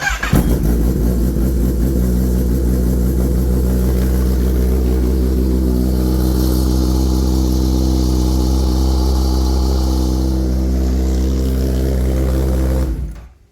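A Kawasaki Ninja ZX-10R sport motorcycle with its flapper valve removed starts and runs loudly and steadily close by, holding a deep rumbling idle with slight revving before cutting off abruptly.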